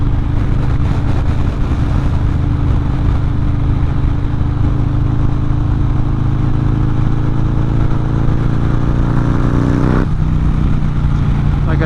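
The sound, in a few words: Harley-Davidson Softail Fat Bob motorcycle engine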